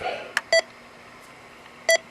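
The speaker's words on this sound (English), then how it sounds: "Okay, beep." Short electronic beeps from an AT6666 radio: a quick tap, a firm tone, then another tone after a pause, over faint hiss.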